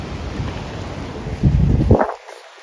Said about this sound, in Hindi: आज बहुत तेज हवा है।